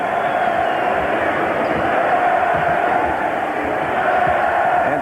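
Basketball arena crowd at a 1998 Eastern Conference Finals game chanting in unison, a loud sustained roar of many voices filling the space with a steady rhythmic swell.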